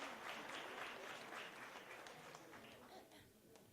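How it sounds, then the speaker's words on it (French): Audience applauding contestants at a local televised music talent show, a continuous crowd clapping that is quiet and slightly distant, thinning toward the end, with voices mixed in beneath. "On devrait leur donner un autre main d'applaudissement."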